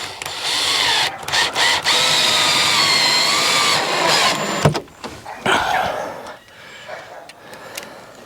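A power drill drives screws into the wood of a shed, loud and close, with a long sustained whir followed by several shorter, stop-start bursts.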